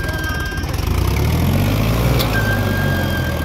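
A Sonalika TI-35 tractor of the 39 HP class runs on a muddy fair track, its engine giving a continuous loud, low chugging drone that rises slightly in pitch partway through, with no talk.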